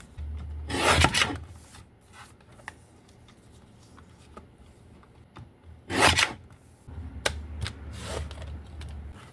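Paper card stock cut to size with a trimmer, two distinct close rasping slides a few seconds apart, with faint handling clicks and rustles between them.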